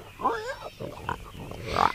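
Pigs oink in a children's storybook scene, a few quick nasal squeals and snorts in a brief, fairly quiet burst.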